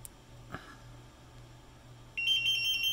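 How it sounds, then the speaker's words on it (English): After a couple of faint clicks, a Drager X-am 5600 gas detector starting up emits a sustained high-pitched electronic tone that holds steadily, loud and close, over a quiet low hum. "It'll beep and go into startup mode."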